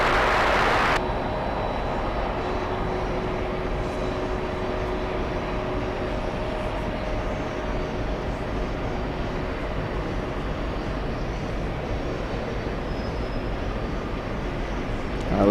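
A steady, loud broadband roar of a moving American Airlines Boeing 737 at a busy airport, constant throughout with a faint tonal hum layered in, no talk over it.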